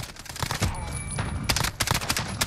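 An LWRC SMG-45 submachine gun fires in Call of Duty Modern Warfare, several rapid close bursts of sharp cracking shots in uneven rhythm, loud and alone.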